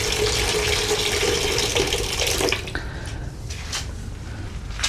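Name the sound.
water running from a tap at a mosque ablution area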